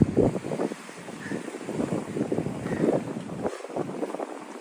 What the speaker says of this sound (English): You hear the waves splashing up.